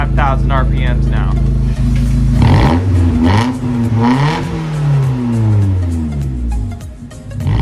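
A Mazda Miata engine fitted with a custom dual-tip center exhaust revs loudly and close up toward 5,000 RPM, its pitch climbing and wavering after a steady idle, with the exhaust note filling the whole stretch.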